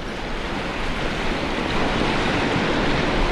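Steady, loud rush of the River Findhorn in spate at a salmon pool near a bridge, a dense continuous roar of torrential water with no voices, building slightly toward the end.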